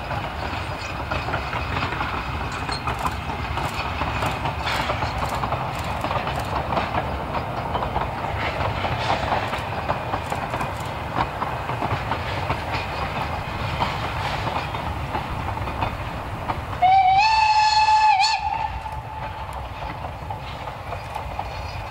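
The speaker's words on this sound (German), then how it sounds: "Im schönen Morgenlicht kommt die Lok daher." Rügen narrow-gauge steam locomotive train approaching in morning light, a steady rumble with rhythmic clickety-clack of wheels on rail joints, ending with a short sharp whistle blast near the end.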